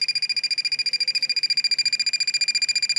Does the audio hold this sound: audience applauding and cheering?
no